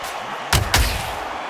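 Two heavy punches landing in the boxing video game Undisputed, James "Buster" Douglas against Otto Wallin: a pair of sharp, loud thumping impacts in quick succession, close together, over a low arena murmur.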